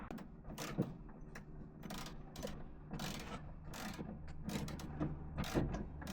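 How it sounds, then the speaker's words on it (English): A star bit is worked on seat belt bolts inside a Transporter T6 LWB van during a camper conversion. Soft metallic ratcheting clicks and knocks come in irregular bursts over a low background hum, fairly quiet, with no talking. "It's an M10 star bit, and that'll just go in here and take these seat belts off."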